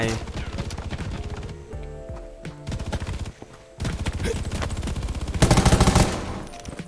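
Rapid bursts of gunfire from the survival shooter video game Undawn, dense repeated shots with a loud sustained volley near the end, over game sound.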